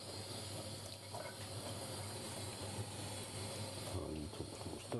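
Water sprinkled or run over naan bread in a kitchen, heard as a steady, close rushing splash like a running tap, with faint clinks near the end.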